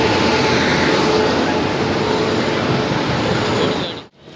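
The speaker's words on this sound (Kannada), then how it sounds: "ನೋಡಿ, ಇವಾಗ ಒಂದು ಟ್ರೈನ್ ಬರ್ತಾ ಉಂಟು" A train draws near, and its loud, broad rumble and roar fills the scene without pause before cutting off abruptly at the end, with no talking.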